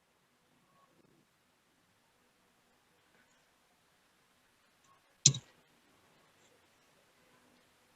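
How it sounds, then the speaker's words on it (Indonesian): A single sharp computer mouse click sets off code running in MATLAB, one brief close tap in an otherwise quiet room. "Kemudian kita klik run."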